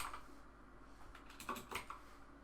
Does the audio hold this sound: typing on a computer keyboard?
yes